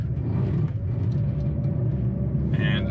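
A 2022 Chevrolet Colorado ZR2 off-road rumbles low and heavy as the engine is pushed, a dense close engine drone with a short brighter burst near the end.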